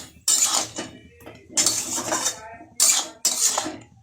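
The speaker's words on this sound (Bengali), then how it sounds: "দেখুন আমি সব মিশিয়ে নিচ্ছি।" Spoon clattering and scraping against a pot while jujube pickle ingredients are mixed together, four bursts of stirring clatter with short pauses between them, close and fairly loud.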